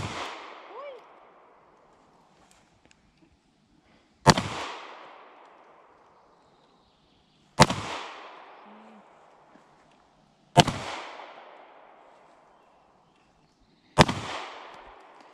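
Gunfire at a shooting range: after one fading report, four more loud, sharp shots ring out at roughly three- to four-second intervals, each trailing off in a long echoing decay.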